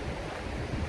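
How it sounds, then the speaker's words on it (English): Strong wind buffets the microphone beside the Potomac River on the Maryland side near Harpers Ferry, a steady loud rumbling roar with no voices. "I apologize for the wind if you can't hear this."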